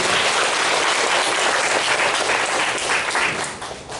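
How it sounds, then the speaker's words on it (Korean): Loud, sustained applause from a church congregation during a Sunday worship service, steady throughout and tapering slightly near the end, with no voices over it. "동의의 박수를 다시 한번 크게 부탁드리겠습니다"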